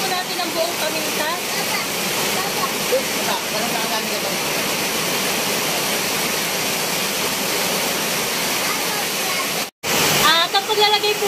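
Water pours steadily and loudly into a cooking pot holding buffalo shank for bulalo, a continuous rushing splash that cuts off briefly near the end before resuming.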